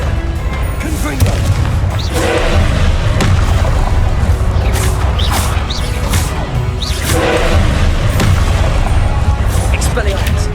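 A blasting spell explodes again and again in Hogwarts Legacy, heavy booms and crashes recurring every few seconds inside dense, continuous combat noise, with spell-casting voices heard among the blasts.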